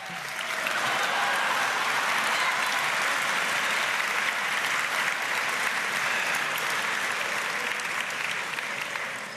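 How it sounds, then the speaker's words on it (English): Audience at a press gallery dinner applauding actress Kim Cattrall, a dense, steady wash of many hands clapping that swells quickly and holds loud and even throughout, with no voices over it. "how about a round of applause for Kim Cattrall?"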